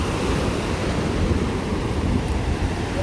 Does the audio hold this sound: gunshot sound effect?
no